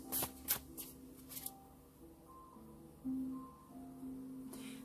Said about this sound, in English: Pull a love card for you.